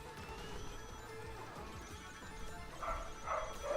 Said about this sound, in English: Uh-oh, doggos.